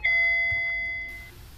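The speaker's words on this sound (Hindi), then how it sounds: "घंटी बाजेगी।" A doorbell rings in a horror video game with a single clear ding-dong chime whose bright tones ring out and fade over about a second, alone and close.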